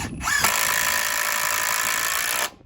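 A Ryobi or Dewalt impact driver sinks screws with worn bits, giving a loud, steady mechanical whir that runs about two seconds before cutting off.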